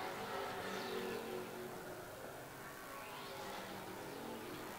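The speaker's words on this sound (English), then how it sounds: "Field thunders back down the back straightaway." Late model race cars circle an oval track in a race, a steady engine roar with two pack passes rising and fading, heard somewhat far off at moderate loudness.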